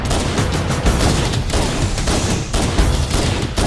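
A plasma rifle fires in Halo CE in fast, continuous bursts, dense and loud, with short gaps between the volleys and no voices over it.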